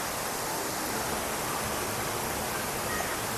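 Water pours down the huge indoor waterfall at Jewel Changi in Singapore, a continuous broad roar that is steady and enveloping throughout, with no voices over it.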